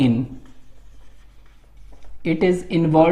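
Pen or marker scratching out notes during a lecture on the limbic system, faint scribbling in a quiet stretch between bursts of close speech.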